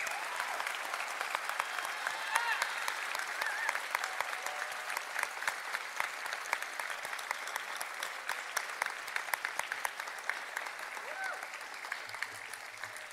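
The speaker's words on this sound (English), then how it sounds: "Let's give these amazing instructors and difference makers a round of applause." An audience at an honors ceremony applauds the instructors with sustained, dense clapping that stays even and fairly distant throughout, with no voices breaking through.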